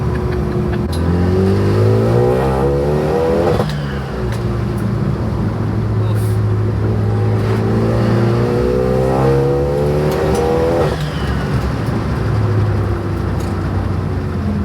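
A race car engine drones loud and close inside the cabin, rising in pitch as it accelerates through the gears with two clear shift breaks, under a steady road roar.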